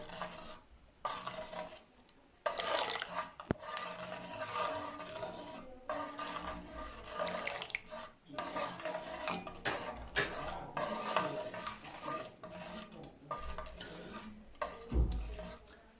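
Spoon stirring in a metal pot as vinegar goes into cooled milk for rasgulla, a steady run of scraping, clinking strokes with brief pauses, close and fairly quiet, with no talk.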